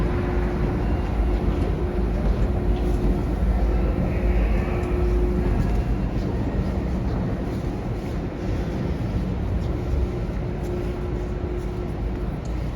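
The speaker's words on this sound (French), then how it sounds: "Notre prochain train passe." A Montreal metro train rumbles through an underground station, a loud continuous low roar with a steady tonal hum, close and sustained throughout with no talk.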